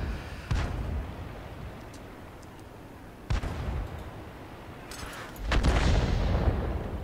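An SU-5 self-propelled artillery gun fires in World of Tanks on the Klippe map, giving sharp booming blasts with rumbling tails, one early and a louder one midway, followed by a rising roaring burst near the end.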